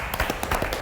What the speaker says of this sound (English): What's everyone clapping?